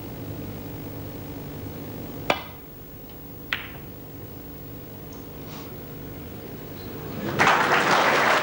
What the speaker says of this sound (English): And the applause is because this shot has put Ken